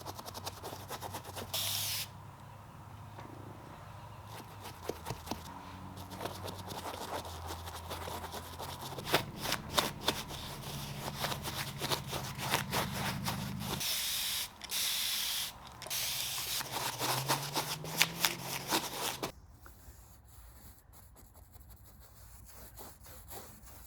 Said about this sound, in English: Making sure that I'm getting into all the folds of the fabric with my little brush and all the nooks and crannies.